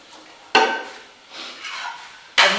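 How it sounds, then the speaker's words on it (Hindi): Onions cook in a pan for kaleji salan, with a couple of sharp metallic clatters of a spoon against the pot and soft stirring and sizzle in between, close by. "ये देखो मैंने प्याज डाल दिए।"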